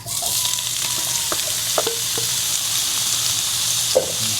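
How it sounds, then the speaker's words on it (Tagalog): Pork sizzling and frying in a hot pan as it is sautéed for binagoongang baboy, a steady loud crackle with occasional stirring scrapes and clinks, no voices. "Igisa na lang natin mga yan."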